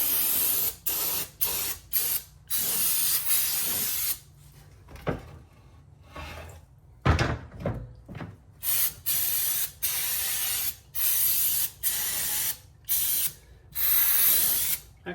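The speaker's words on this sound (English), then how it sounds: "give it a little spritz" Aerosol cleaner sprayed into the inside of an F150 6R80 transmission pan in repeated hissing bursts, each about a second long with short pauses, loud and close, plus a few clunks midway.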